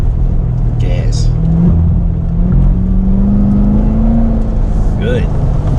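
A Chevrolet Corvette C7 Z06 accelerates through an autocross slalom, its engine a loud steady drone that rises in pitch toward the end, with a coach's voice calling out over it.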